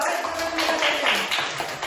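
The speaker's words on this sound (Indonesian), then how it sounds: "Tepuk tangan dulu" Children in a classroom clap their hands in a brief burst of uneven claps, moderately loud and close, with some voices mixed in.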